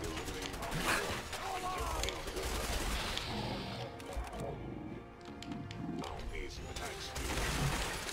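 Weapon fire in Fallout 4 as a synth leader is blasted: rapid clattering shots and impacts in a busy mix of game effects, with excited talking over the top.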